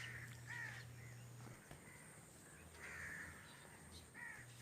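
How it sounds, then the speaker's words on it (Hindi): Village birds calling in the morning, mostly crows cawing in repeated faint, distant calls, with a low steady hum of rural open air beneath. "परिंदों की आवाज़ें हैं और बस।"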